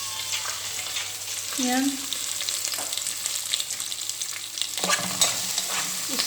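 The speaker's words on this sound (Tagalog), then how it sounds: "Stir fry muna natin lahat ng gulay." Vegetables being stir-fried in a pan for mutton caldereta give a continuous close sizzle with stirring and scraping, and a voice speaks briefly.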